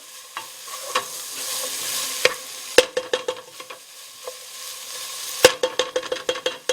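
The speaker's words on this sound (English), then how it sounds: "you're just going to cook this for a quick second or two. Make sure you just mix it all together." Flour-coated beef for a vegetable stew sizzles in a pot while a utensil scrapes and stirs it, giving a soft steady frying hiss broken by sharp clattering knocks, several in quick bursts.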